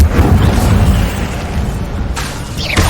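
Incendio fire spell cast in Hogwarts Legacy on PS5, a deep rumbling whoosh of flame that swells and sustains, with sharp bursts and crackles near the end, loud and close.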